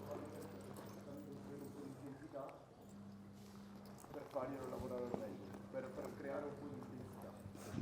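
Hooves of a horse clip-clopping at a slow walk during herd work, a steady run of close, moderately loud hoofbeats with a person talking over them.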